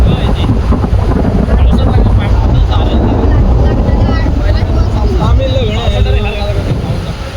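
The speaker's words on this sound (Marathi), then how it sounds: "बेकार पाऊस आला एकदम वारा पाऊस." Heavy rain and strong wind at an outdoor wedding, loud roaring gusts battering the microphone throughout, with people talking over the din.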